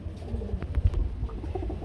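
Pigeons at a Bangladeshi pigeon market cooing and calling, soft low throaty coos repeating nearby over faint background noise.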